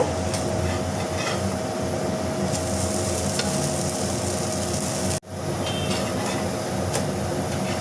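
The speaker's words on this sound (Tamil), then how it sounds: "ஊற்றிக்கலாங்க எண்ணெய் விட்டுக்கலாங்க திருப்பி போட்டுக்கலாங்க" A ragi dosa fries with oil on a hot pan, producing a steady, close sizzle that runs unbroken apart from one brief dropout, with no talking.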